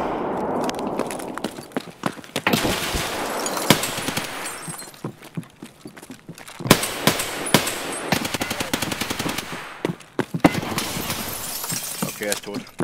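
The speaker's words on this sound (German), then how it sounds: "Hinter uns kamen Schüsse" Escape from Tarkov gunfire: repeated sharp shots and rapid bursts, some near and loud, others farther off, with glassy breaking sounds mixed in and players talking over the action.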